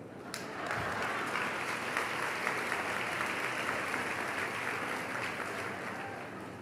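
Audience applause at a church sermon gathering, a sustained dense wash of clapping from a large crowd that starts abruptly and holds at steady loudness throughout.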